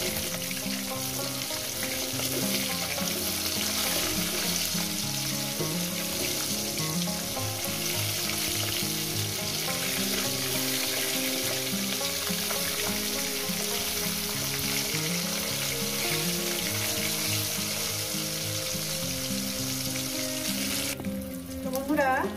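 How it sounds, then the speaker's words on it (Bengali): Rohu fish pieces fry in hot oil with a steady, loud, continuous sizzle and crackle, heard up close with occasional light clatter of stirring. "মাছগুলো ভাজা হয়ে গেছে।"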